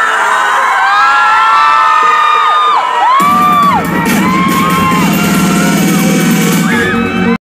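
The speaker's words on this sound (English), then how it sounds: "Guys, an amazing crowd." A large crowd at a YouTube fan festival cheers and whoops loudly, building into sustained shouting with high excited voices and screams from young fans throughout.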